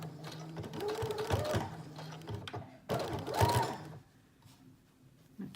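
Domestic sewing machine stitching fabric for a teddy bear jacket, two steady whirring runs of rapid needle motor chatter separated by a short pause, close up, ending in quiet.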